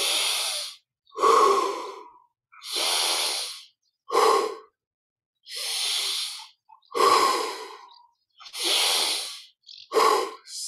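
Deep, deliberate breaths during guided conscious-breathing meditation: about seven long, loud, airy inhales and exhales alternating in a slow steady rhythm, close to the microphone with brief silent pauses between them.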